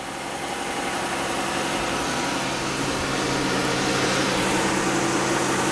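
A 2015 Jeep Grand Cherokee engine runs at a steady idle during a thermostat replacement, with the coolant system temporarily hooked up. The hum is continuous and even, close by, and no voices are heard.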